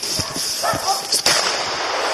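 One sharp gunshot cracks out during a hunt outdoors, set against a steady noisy background and urgent shouting voices.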